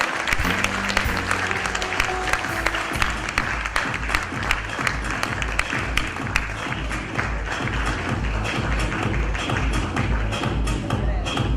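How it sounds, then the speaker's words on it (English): Sustained applause from a large audience at a book release event, dense clapping that fills the room at a steady, loud level throughout. "let us honor him with a huge round of applause"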